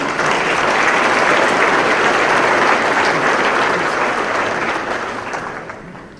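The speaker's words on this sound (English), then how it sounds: "Would you please help me in giving a round of applause to the leadership of Mobility 21?" A summit audience gives a round of applause for the Mobility 21 leadership, with loud, dense clapping that holds steady for several seconds and then gradually fades out.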